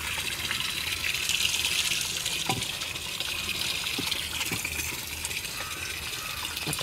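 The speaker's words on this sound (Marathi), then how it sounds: "मी पाणी ओतते त्यात अजून" Water poured from a container into a bowl for dogs on a hillside, making a steady splashing gush that runs the whole time, close and moderately loud, with a few faint knocks.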